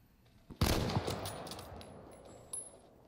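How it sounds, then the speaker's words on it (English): Gunfire bursts in Call of Duty: Warzone, a sharp loud volley followed by fading reverberant shots and a second smaller burst, heard through game audio. "What are you shooting?"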